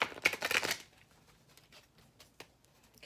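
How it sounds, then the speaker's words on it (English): Oracle cards shuffled briskly in a burst of rapid papery riffling for under a second, then only faint scattered card handling in a quiet room. "Just shuffle these up a little bit."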